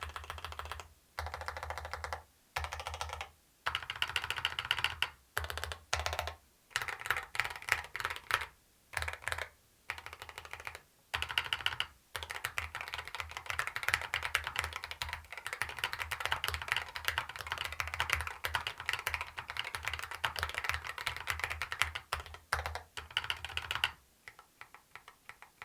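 Steady typing on a Lamzu Atlantis Pro keyboard, close and clear, with bursts of keystrokes broken by short pauses, then longer unbroken runs of quick clacks in a quiet room.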